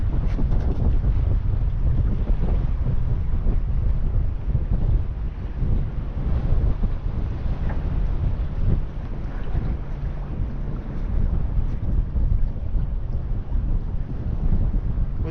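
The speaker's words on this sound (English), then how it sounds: "Certainly being pushed along with this wind." Strong wind buffeting a small fishing boat at sea, a loud, continuous roaring rumble with heavy gusts battering the microphone and no voices.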